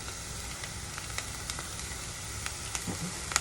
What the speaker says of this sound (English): We add the sugar and we start stirring